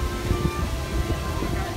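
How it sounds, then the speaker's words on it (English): Wind buffets a microphone outdoors, producing a constant low rumble and roaring noise that fills the whole stretch without pause. "Sorry about the wind."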